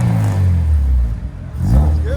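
A 2000 Honda Civic hatchback with a K24-A2 engine swap, headers and Vibrant exhaust parts revs loudly nearby, falling back from a rev and then climbing again, with a voice speaking over it.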